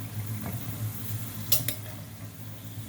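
Eggplant frying in hot oil for a Turkish egg-and-eggplant dish, a steady low sizzle bubbling close by, broken by a couple of sharp clinks of a utensil against the pan near the middle.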